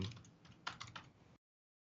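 A short burst of quick, uneven keystrokes on a computer keyboard, close and faint, clicking for about a second before stopping into silence.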